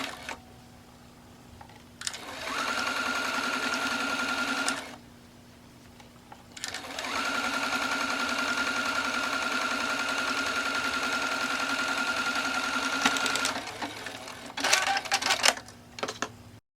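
A sewing machine runs a stay stitch along a fabric face mask in two long steady whirring bursts separated by a short pause, then a few brief uneven stops and starts at the end.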